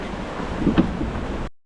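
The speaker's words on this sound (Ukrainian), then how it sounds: "Річка бурхлива, були дощі." The Limnytsia river rushes after rains in the Gorgany mountains, a turbulent and continuous roar of water that is loud and broadband, with some wind buffeting the microphone, before cutting off abruptly.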